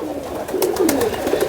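Pigeons kept on a rooftop coo in a soft, repeated low warble, several coos running together close by with no voices present.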